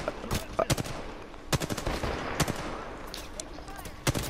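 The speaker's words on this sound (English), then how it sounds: "They're shooting at us." Gunfire in the Apex Legends battle royale video game comes as sharp, fairly loud bursts and single cracks spread across the clip, mixed with some scattered background noise.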